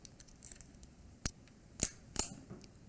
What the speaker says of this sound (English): So I'm gonna take this tape off here.